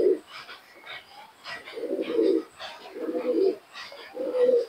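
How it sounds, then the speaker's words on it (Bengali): Giribaz pigeons coo in a loft, several low throaty coos repeating in slow, evenly spaced bursts, close and fairly soft, with a faint voice nearby. "খুবই সুন্দর কবুতর।"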